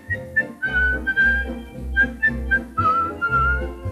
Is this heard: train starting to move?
no